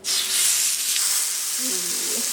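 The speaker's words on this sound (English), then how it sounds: "that sizzle. That's what you want when you're cooking steaks." Loud, steady sizzling from steak searing in a hot cast iron skillet, a bright hiss with faint clinks near the end.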